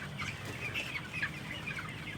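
A flock of sixteen-day-old broiler chickens on a raised farm fill the air with a soft, continuous chorus of chirps and clucks, many birds at once, steady and fairly quiet with no talk.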